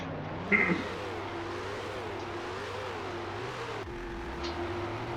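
A 1960s Grand Prix car at a race start at Brands Hatch in the Grand Prix Legends sim: the engine hums steadily, then revs and wavers in pitch before dropping to a lower drone.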